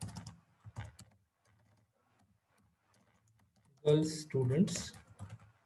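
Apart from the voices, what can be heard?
typing on computer keyboard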